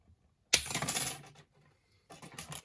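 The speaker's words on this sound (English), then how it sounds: "let's cut this one where it's marked" Brass strip being cut with a hand tool at a locomotive servicing bench: one sharp metallic snip with a short ringing rattle, then a quieter second burst of small metallic clicks, close and alone.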